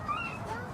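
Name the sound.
puppy dog whimpering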